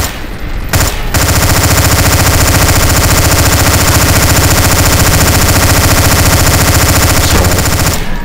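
Continuous rapid automatic gunfire from Counter-Strike: Source zombie escape mode, many guns firing at once in a loud, dense, unbroken barrage that starts after a brief pause and runs for about seven seconds.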